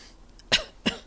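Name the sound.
a little cough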